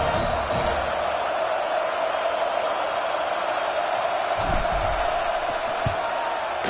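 A stadium crowd at an American football game roars after an opening-kickoff return for a touchdown, a loud, sustained wall of cheering with no breaks.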